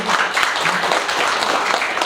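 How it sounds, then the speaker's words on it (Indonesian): An audience of teachers and guests claps for educators at Madrasah Aliyah Al-Khairiyah in Jakarta, a dense, steady patter of many hands lasting about two seconds without pause. "Tepuk tangan dulu."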